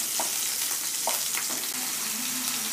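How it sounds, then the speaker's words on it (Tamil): Capsicum frying in oil in a kadai, a steady close sizzle with a few light spatula taps and scrapes, no talking. "குடமிளகாயை ஃப்ரை பண்ணி எடுத்தாச்சு"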